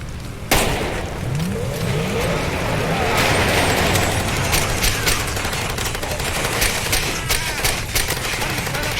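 Gunfire in the video game Far Cry 2, rapid shots and bursts layered over engine-like rumble, with a voice talking over the action.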